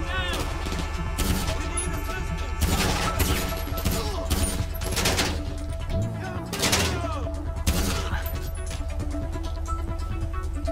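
Enemy gunfire in a GTA 5 Online shootout during the Los Santos Connection mission, with dense, loud, sustained automatic bursts and crashing impacts filling the scene and only brief lulls between volleys.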